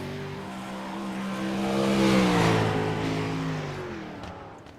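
A dirt track race car at Volusia Speedway roars through its qualifying lap, engine pitch climbing and swelling loud as it passes close, then fading as it pulls away, with no talk over it.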